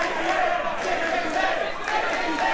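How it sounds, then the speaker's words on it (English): A wrestling arena crowd chants for Spirit Squad, a dense, steady roar of many voices with rhythmic swells, loud and continuous throughout. "Crowd chanting for Spirit Squad"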